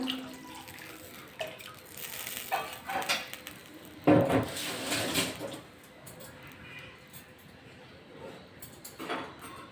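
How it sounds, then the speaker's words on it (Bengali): Water is poured into a cooking pan for a parshe fish curry, giving a brief splashing pour with a few clanks of the pan, moderately close and otherwise fairly quiet. "আর একটু জল দিলাম"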